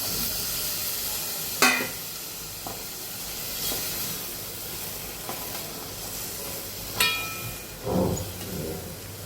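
Fresh cashews frying in oil-released spiced masala in a pan, a steady close hiss and sizzle throughout, broken by a few sharper stirring scrapes and clatters.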